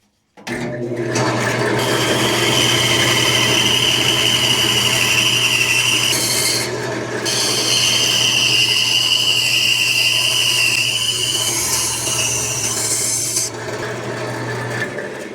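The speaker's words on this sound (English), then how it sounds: "Now we're going to use the bandsaw to cut this middle part out." A bandsaw cuts through a piece of wood, halfway across its width, with a steady loud rasping whine held for the whole stretch, dipping slightly once or twice as the blade works through the cut.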